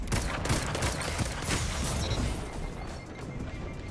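Hand cannon gunfire in Destiny, a rapid string of punchy shots layered with crashing impacts and mechanical game effects. The sounds are dense and continuous, and no speech is heard.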